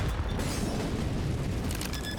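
A grenade blast in Counter-Strike on the Dust2 map, a dense broadband boom that rolls steadily through the whole moment with a rumbling low end and no talk over it.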